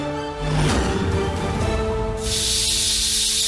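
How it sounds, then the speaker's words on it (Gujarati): A loud, steady hiss of escaping steam from a pressure cooker builds and then blasts continuously over a low kitchen hum, close by. "કંકુ, હવે તારું કુકર બંધ કર."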